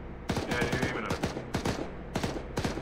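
Rapid gunfire in the military shooter Arma 3, loud bursts of sharp automatic shots in clusters with short gaps, close and punchy with ringing tails.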